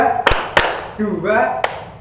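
A group of students at a vocational high school in Yogyakarta claps in a counted pattern: a couple of sharp, loud claps close together, a pause, then one more, with a voice speaking between them.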